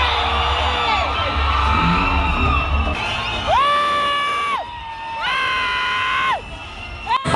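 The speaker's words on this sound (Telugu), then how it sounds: "అసలు థియేటర్లో ఆ జనాల్ని, అరుపులు, ఆ కేకలు" A packed cinema theatre audience at a first-day Thalapathy film screening erupts in loud, sustained cheering, whoops and shrill whistles, the roar rising and falling in waves close around the listener.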